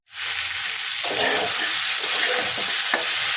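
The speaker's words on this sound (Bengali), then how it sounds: "এই যে ফুলকপি আলু ভালো করে মশলার সঙ্গে কষিয়ে নিলাম" Cauliflower and potato sauté with spices in a pan, a dense continuous sizzle with light stirring scrapes throughout.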